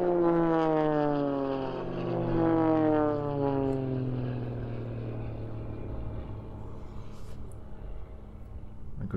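Jet aircraft flying simulated aerial combat manoeuvres at an air show roar past overhead, a loud sweeping engine tone that slides downward in pitch as it recedes into a fading rumble.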